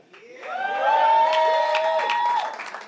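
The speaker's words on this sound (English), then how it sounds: "Y'all gotta clap for that." An audience claps and cheers at the kickoff of a hip hop and spoken word festival at a café venue. The applause swells and holds steadily for a few seconds, with a sustained sung or called-out voice carrying over it.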